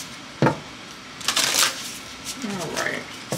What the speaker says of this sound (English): one more shuffle, you guys